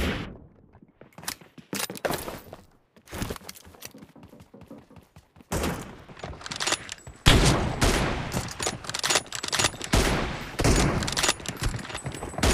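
Rapid bursts of gunfire from a shooter video game crackle in clustered volleys and single loud shots, growing denser and heavier in the second half with a few dull thuds between.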